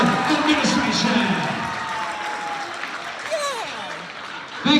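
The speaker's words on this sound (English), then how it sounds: "Right now, a big round of applause to your teachers, your principals, and your whole entire administration." A crowd applauding and cheering for teachers at a school bike show, a broad burst of clapping that gradually fades over a few seconds while a voice carries on faintly over it.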